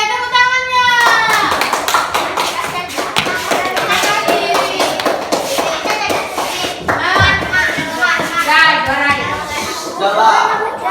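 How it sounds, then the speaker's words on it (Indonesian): Children in a classroom clap their hands in a busy, continuous patter alongside a lively mix of kids' voices and an adult talking, loud and close throughout. "Oke, tepuk tangannya."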